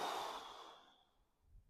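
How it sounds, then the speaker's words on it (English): A single slow, deep diaphragmatic breath, taken during a lower-back relief exercise, fades out softly and close to the microphone, then gives way to near silence. "So breathing in, breathing out."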